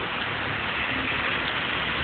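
Steady rain in Ramdurg fills the whole moment, a dense even wash of hiss with no clear drops or voices standing out.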